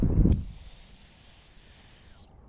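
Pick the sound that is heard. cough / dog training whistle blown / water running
dog training whistle blown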